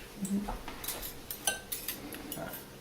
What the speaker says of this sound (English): maybe I could get me a whisk, Joanne. I think that'd be better